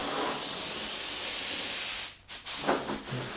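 Compressed air hisses steadily out of the boot of a 1992 BMW 325i E36 during priming prep, a loud continuous broadband blast with a brief cut-off and restart near the end.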